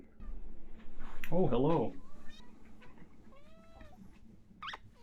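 A pet cat gives a loud, close meow in the middle, with fainter mewing sounds after it, while a person speaks a brief greeting nearby.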